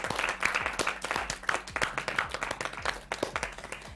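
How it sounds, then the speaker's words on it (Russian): A studio audience at a televised show applauds steadily, a dense crowd of hand claps with sharp individual slaps sustained for several seconds, moderately loud and without talk. "Похлопаем."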